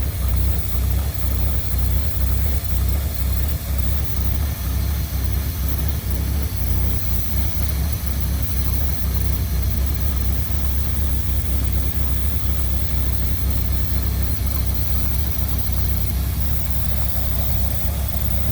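A Mercury car engine with a freshly rebuilt Motorcraft 2100 carburetor idles with a low, continuous rumble and a steady rhythmic chug, heard up close with a faint exhaust leak.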